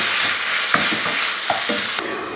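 Chicken escalope filling fries in a pan and is stirred now and then, a loud dense sizzle broken by a few scraping utensil strokes, and it turns brighter and harsher near the end.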